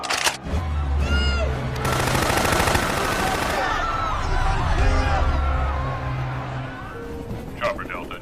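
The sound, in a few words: gunshots fired by soldiers in Resident Evil film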